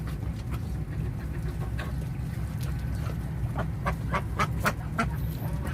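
Ducks being fed corn, a flock quacking in repeated bursts over a steady outdoor rumble, several calls overlapping at moderate distance with no talking.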